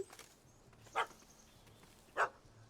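A dog in the video game The Witcher 3: Hearts of Stone gives two short, sharp barks about a second apart, fairly close and clear over a faint, quiet background with no talking.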